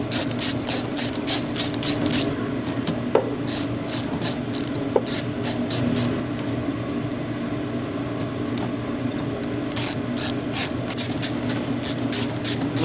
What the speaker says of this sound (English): I'm going to put some bolts in to just do a line up.